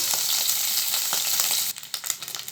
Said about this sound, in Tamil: இந்த கருவாடு வறுபட்டுருச்சு.